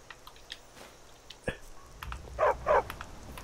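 A dog in the video game Skyrim: Special Edition lets out two short, close barks near the end, after some scattered clicks and rustles, with a voice speaking at moments.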